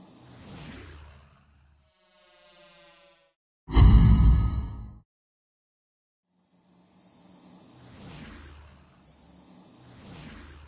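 A torpedo bomber squadron launches in World of Warships Blitz, heard as a single loud roaring whoosh of aircraft engines lasting about a second, framed by quieter game sounds and a faint tone before it.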